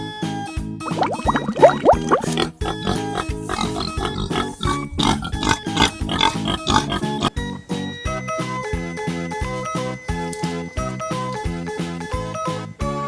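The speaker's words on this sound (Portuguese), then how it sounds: "Porco," A pig grunts and oinks in short bursts early on, then is buried under a lively, tinkling music track that keeps a steady beat throughout.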